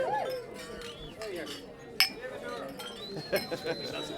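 Glasses clink sharply once, then a few lighter clinks follow, during a wedding toast to the bride and groom, amid voices and murmuring guests.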